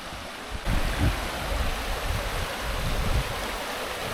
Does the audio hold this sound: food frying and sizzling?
no